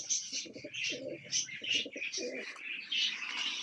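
Pigeons coo in a series of low, soft, throaty bursts, with higher chirps and bird calls layered above them and a brief flutter of wings. The birds sound close and steady, and no one speaks.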